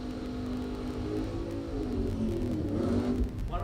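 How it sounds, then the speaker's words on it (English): A drag racing car at a bracket racing event revs during a burnout, its engine tone climbing and roaring louder over a few seconds with a rough, tire-spinning edge. "One of them makes a loud burnout"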